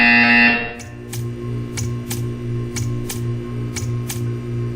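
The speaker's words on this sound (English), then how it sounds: "You will hear a buzzer." A buzzer sounds repeatedly in the video game Portal 2, in sharp, evenly spaced bursts over a steady electronic hum, following a brief tone at the start.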